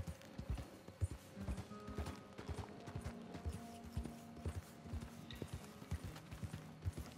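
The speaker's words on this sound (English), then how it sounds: "Come on, horse, we gotta go." Horse hooves clip-clop in a quick, rhythmic gallop in the video game Red Dead Redemption 2, fairly quiet and steady throughout, with no talking.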